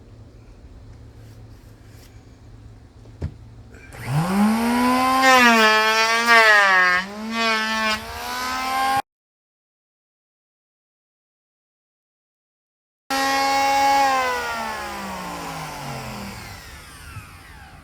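A power tool flattening a firewood cutting board whines up to a loud, rising and wavering motor tone for several seconds, cuts out to silence, then returns as a steadily falling whine; faint hum and a click come before.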